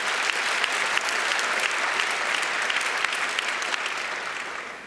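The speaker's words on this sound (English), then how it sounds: "you can clap if you want." Audience at a hacker conference talk breaks into loud, dense applause, a continuous wash of many hands clapping close and steady for about five seconds before easing slightly at the end.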